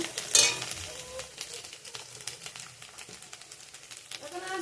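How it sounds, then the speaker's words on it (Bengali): Ground onion paste fries in a pan for a fish curry, giving a soft, steady sizzle with light stirring and scraping, one brief brighter crackle near the start, no voices. "পেঁয়াজ বেটে নিয়েছি, নিয়ে ভাজছি।"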